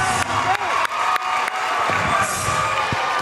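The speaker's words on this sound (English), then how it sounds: "Crowd goes wild." A crowd roars and cheers at the close of an MMA fight, loud and sustained with whoops and scattered clapping, while an announcer's voice talks over the noise.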